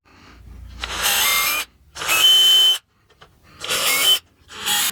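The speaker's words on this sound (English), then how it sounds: "I'm going to go ahead and drill my other holes so that I have everything pre-drilled" A power drill pre-drills holes in wood for a candy cane stocking holder, in four short high-pitched whirring bursts separated by brief silences, close and fairly loud.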